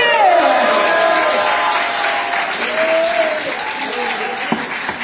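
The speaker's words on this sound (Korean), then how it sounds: "우리 나경원 의원님께 감사의 박수 한 번 더 부탁드리겠습니다" A crowd at a political launch event applauds lawmaker Na Kyung-won, steady clapping with scattered cheers and whoops, while a voice and music-like tones carry over the top before it thins out.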